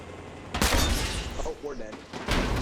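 Video game gunfire crackles in dense rapid bursts, loud and close, with players talking over the shooting.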